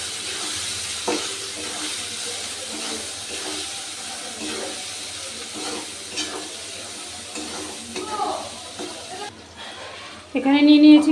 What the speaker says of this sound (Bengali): এবার সব মশলাগুলোকে আমি ভালো করে কষিয়ে নেব।